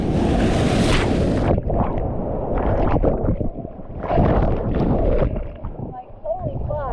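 Ocean surf rolling and breaking on an empty beach, a loud, close wash of churning water with wind buffeting the microphone and a voice speaking over it.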